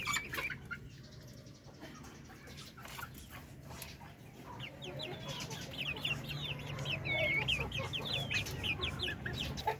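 Chickens cluck steadily outdoors at close to medium range, joined by assorted bird calls and some wing flapping, over constant low farmyard background noise that grows a little louder toward the end.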